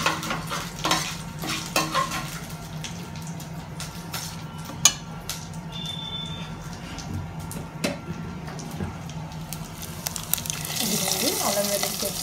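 Ginger garlic paste is stirred into coconut milk in a pan for coconut milk rice, with a soft bubbling sizzle and repeated scrapes and taps of a spoon against the pan, close by and fairly loud.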